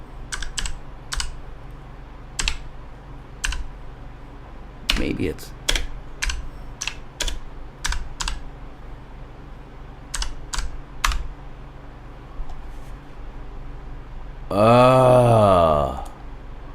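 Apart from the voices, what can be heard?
typing on a computer keyboard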